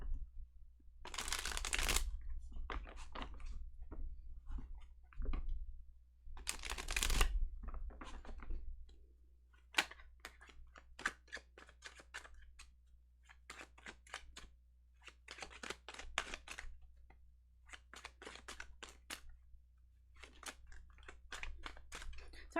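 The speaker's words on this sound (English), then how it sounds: "I'm not really saying anything while I'm shuffling." A tarot deck shuffled near the microphone in repeated bursts of papery riffles and soft slaps, some longer swishes mixed with clusters of short flicks, steady low hum beneath and no talking.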